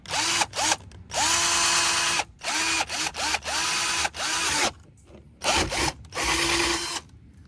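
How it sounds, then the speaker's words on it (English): A power drill bores through motorcycle plastic on a Kawasaki Z125 during a subcage install, running in repeated loud bursts of whirring and grinding with brief pauses between them. "and then drill through the plastic."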